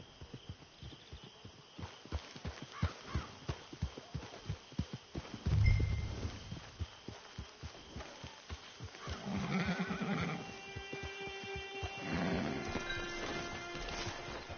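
A horse in the Red Dead Redemption 2 video game: steady clip-clop hoofbeats that grow louder near the middle, followed by a loud, drawn-out whinny and snorts toward the end.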